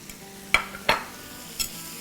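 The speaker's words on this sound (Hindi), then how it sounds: "थोड़ा सा सौटे करेंगे" Dried red and green chillies sautéing in a pan, a soft background sizzle broken by three sharp spoon-against-pan clinks as they are stirred, close by.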